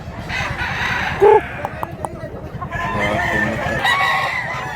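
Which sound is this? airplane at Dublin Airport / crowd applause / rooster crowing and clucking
rooster crowing and clucking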